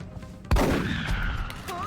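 A single sharp gunshot in the strategy game XCOM Long War bursts out partway through, then a dense rumbling tail and ringing effects carry on loudly to the end.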